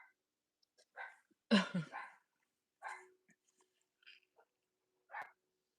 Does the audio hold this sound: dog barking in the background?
yes